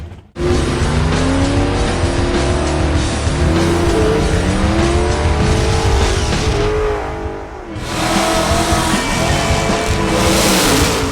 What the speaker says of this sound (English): our Vortech Supercharged 2011 Mustang that's pumping out 600 horsepower to the rear tires